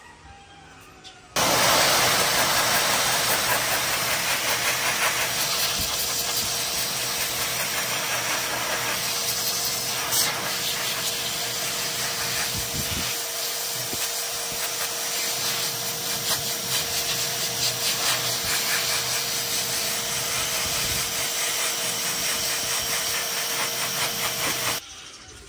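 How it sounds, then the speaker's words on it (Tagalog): A vacuum cleaner runs continuously and loudly while cleaning the air filter of a Suzuki S-presso AGS, a steady broadband roar with slight fluctuations that starts abruptly and cuts off near the end. "Bugaan lang natin ng vacuum natin."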